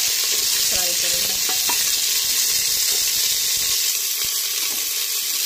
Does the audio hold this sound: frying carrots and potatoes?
yes